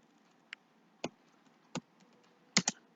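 Code typed on a computer keyboard during a Python pandas lesson, sparse separate key clicks followed by a quick double tap, crisp and close in a quiet room.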